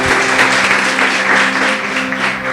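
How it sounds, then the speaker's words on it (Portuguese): A church congregation claps in praise, a loud, sustained crowd of hands over a steady droning tone, likely from an organ or keyboard, lasting a few seconds. "Louve a Deus com as suas palmas"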